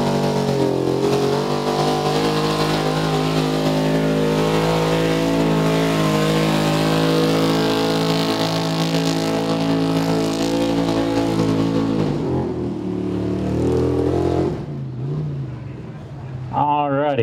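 A truck engine in a truck pull at the Carroll County 4H & FFA Fair revs hard and loud for about twelve seconds with steady harmonics, then drops off into quieter background noise.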